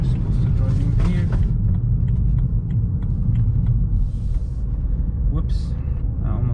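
A car rolling slowly into a parking lot, heard from inside as a constant low engine and road rumble with faint rattles, while a person talks over it.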